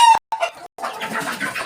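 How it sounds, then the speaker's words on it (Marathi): Native village hens cluck and squawk close by, with a short sharp call at the start followed by a busy, overlapping chatter of clucking from several birds. "हे प्युअर गावठी पूर्ण प्युअर गावठी कोंबडी आहेत."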